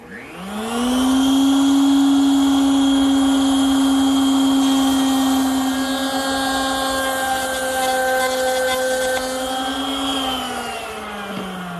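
A router bit cuts a dado in a wooden piece clamped in a miter gauge. The motor whines up to a steady, loud pitch, holds while cutting, then winds down near the end.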